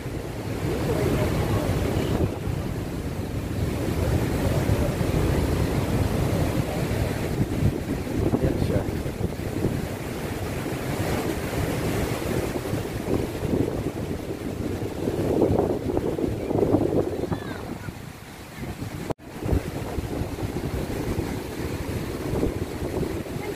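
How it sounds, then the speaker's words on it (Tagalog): Strong rushing water at a dam, a continuous loud roar and churn with heavy wind buffeting the microphone throughout. "nakakahilo yung tubig. Ang lakas."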